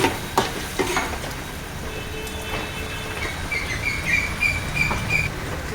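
Ginger garlic paste being stirred into a hot pan for a Telangana-style chicken tomato curry, a continuous sizzling crackle with a few spoon knocks near the start, close up with no talking.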